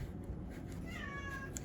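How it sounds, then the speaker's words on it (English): A pet cat gives a single short meow midway, clear but moderately quiet over a low background hum. "My kitty is wanting to get out here."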